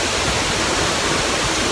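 A waterfall on a Brecon Beacons trail roars steadily, a dense, loud, unbroken rush of falling water heard up close with no other sounds.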